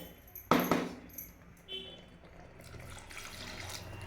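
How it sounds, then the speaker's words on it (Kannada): Water is poured into a cooking pot in a home kitchen, with a sharp splashing burst at the start, then faint trickles and quiet clatter. "ಅಷ್ಟು ನೀರು ಹಾಕ್ಬೇಕ್ರಿ"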